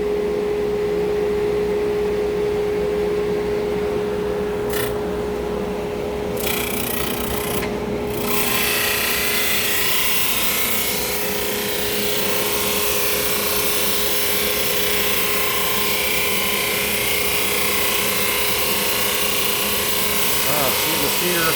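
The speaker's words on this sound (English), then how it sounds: "Here's a Supermax 1938 drum sander by Laguna." Laguna Supermax 19-38 drum sander sanding a weathered cedar sign, a loud continuous machine hum with a steady raspy grinding of wood against the drum and brief changes as the board passes through.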